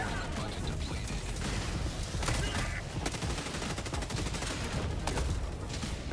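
Dense, continuous gunfire rattles from the Helldivers 2 video game, loud rapid bursts layered with explosions and clanks, with no let-up over the whole stretch.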